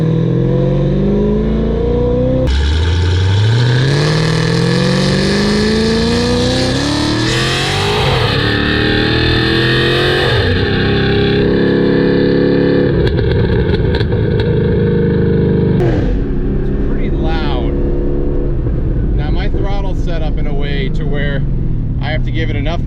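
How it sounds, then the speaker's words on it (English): Chevrolet Camaro exhaust in tour mode, loud and close, revving up through rising throttle pulls and settling between bursts, with a person talking over parts of it. "You can see in tour mode, getting on it."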